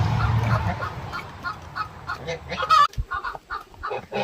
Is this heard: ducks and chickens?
yes